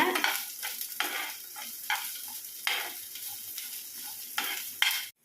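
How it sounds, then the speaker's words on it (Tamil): Chillies and coconut pieces are lightly sautéed in oil for karuveppilai thovayal, giving a soft steady sizzle with repeated scraping stirs of a spoon against the pan, close up and without speech. "லைட்டாக வதக்கி விடுங்க"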